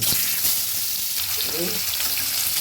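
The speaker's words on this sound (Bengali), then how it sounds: "কয়েকটা কয়েকটা দিয়ে ভেজে নেবো খুব একটা বেশি দেবো না আস্তে আস্তে ভেজে নেবো" Pieces of boal fish fry in mustard oil, producing a dense, continuous loud sizzle and crackle close by. The noise holds steady for its whole short length.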